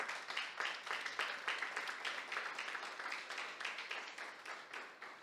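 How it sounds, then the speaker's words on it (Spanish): A church congregation applauds during worship, a dense, steady wash of many hands clapping at once, sustained and fairly loud throughout with no voices standing out. "Démosle ese aplauso al Señor."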